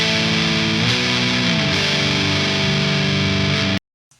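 A loud, heavily distorted electric guitar through an amplifier in vintage mode rings out in sustained chords for several seconds, then cuts off abruptly into near silence.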